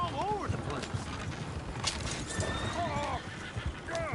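Horses in Red Dead Redemption 2 whinny several times amid clip-clopping hooves, with people talking over the scene.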